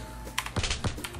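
Quick bursts of keystrokes on a computer keyboard with no ghosting, typed in short clusters at close range while entering an order in a cooking game, with no talking.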